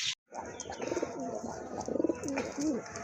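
A pair of Chila pigeons, an orange-coloured pair with featherless feet, coo close by in soft repeated throaty rolls over a faint background murmur.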